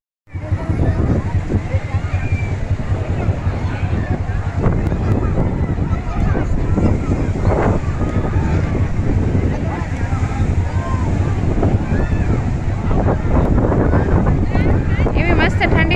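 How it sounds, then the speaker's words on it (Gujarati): Cool wind blowing at the seashore in Dwarka, a loud continuous buffeting roar across the microphone with faint surf beneath and voices partly buried in it. "એવી મસ્ત ઠંડી ઠંડી હવા આવે છે દરિયા કિનારે."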